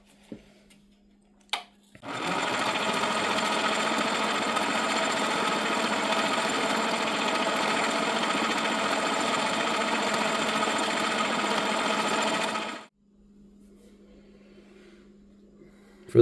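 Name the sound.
metal lathe making a cut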